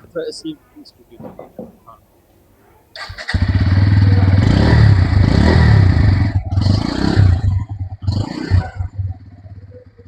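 After a few quiet knocks, a 2025 Bajaj Pulsar N160 top-model motorcycle engine fires up loudly and revs, its exhaust roaring close by, then dips and surges again.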